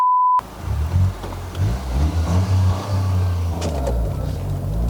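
A 2023 Toyota GR Corolla with 300 PS and 370 Nm revs hard under full-throttle acceleration on a Malaysian test drive. A short electronic beep sounds first, then a loud, rising engine roar fills the rest of the clip.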